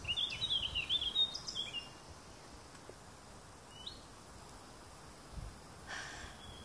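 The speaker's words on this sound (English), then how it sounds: "mainly all I can hear is birds." Birds sing outdoors in a peaceful spot with faint traffic from a road nearby, a few bright chirping phrases early on, then sparse distant calls over a low background hush.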